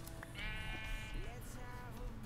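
A sheep bleats in Minecraft, one long wavering cry lasting over a second, loud and close over a steady game background.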